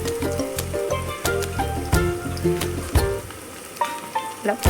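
Chillies sautéing in a pan with turmeric and coriander, a close, steady sizzle with clattering stirring and scraping knocks of a spoon against the pan.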